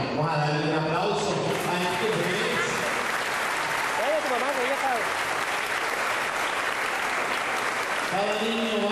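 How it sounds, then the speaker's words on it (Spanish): A crowd at a wedding claps and cheers steadily for several seconds, with Spanish-speaking voices talking over the applause at the start and end. "Vamos a darle un aplauso."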